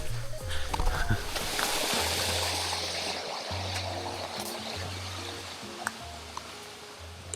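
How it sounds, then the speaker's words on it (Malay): A small waterfall on a mountain hiking trail in Malaysia pours steadily nearby, a continuous rushing splash of water. A low engine-like hum and a few light clicks sit underneath it, and there is no talking. "Ada mini air terjun."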